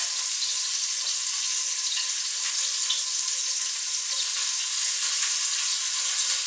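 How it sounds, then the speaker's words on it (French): Meat for coq au vin fries in a hot pan with a steady, bright sizzle that stays loud and even throughout, with no voices over it. "En ce temps-là, la viande continue à cuire."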